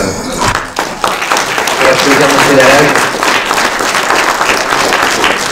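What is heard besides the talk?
audience applause after a lecture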